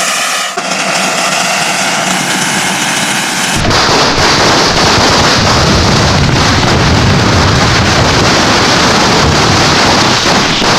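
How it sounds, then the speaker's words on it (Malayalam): Firecrackers for the Vishu festival in Kerala burst in a dense, continuous crackling barrage, loud and close, with the roar swelling even further partway through. "എന്തിനാ ആളുകൾ പടക്കം പൊട്ടിച്ചേ? ഇന്ന് വിഷുവാ."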